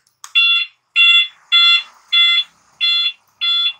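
Six loud, shrill electronic beeps from a motorcycle turn-signal alarm on a Honda Beat FI repeat in an even rhythm, each about half a second long with short gaps between, close and clear.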